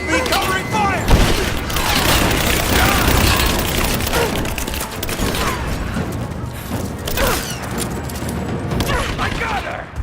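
Battle gunfire during an enemy attack in Rise of the Tomb Raider, a dense continuous barrage of shots and booms with crashing impacts, under shouted voices calling out over the fight.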